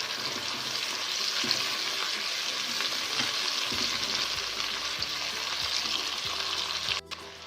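Onions cooking with garlic and ginger paste give off a steady, loud hiss of frying, with occasional low scrapes from a stirring spoon and a brief clink near the end, with no talking.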